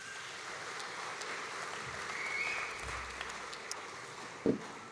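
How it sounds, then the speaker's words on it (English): A graduation audience at Melbourne Polytechnic applauds its graduates, a faint, distant, even patter of many hands sustained throughout without clear speech. "Let's give all of our graduates a round of applause"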